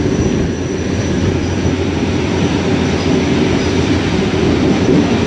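Train running on the down track in Sindh: a loud, continuous roar and clatter of wheels on rail, steady and close throughout without any voices.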